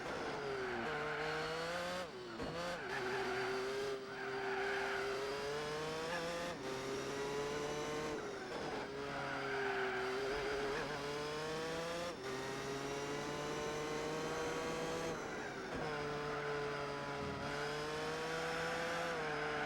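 A racing car in Gran Turismo 4 goes off the road. The engine whines steadily with gear shifts and brief dips, and tire noise rises near the start. Loud and continuous, with no talking.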